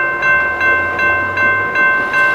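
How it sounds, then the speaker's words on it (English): A freight train rolls past a trackside spot, its wheels thumping in a steady rhythmic beat over rail joints, with loud sustained tonal whine from the passing cars, close and continuous. "freight train that just went through."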